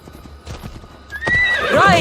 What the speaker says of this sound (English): Oh, what do you know? More horses.